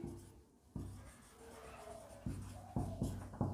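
Marker or chalk writing on a classroom board during a physics lesson, soft scratchy strokes coming in short bursts with brief taps between them.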